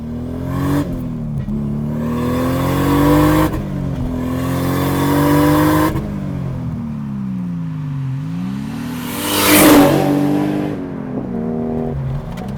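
A 500 hp 2JZ-swapped Lexus SC300 engine revs loudly alone in repeated sweeping pulls, climbing and dropping in pitch, with a sharper burst near the end.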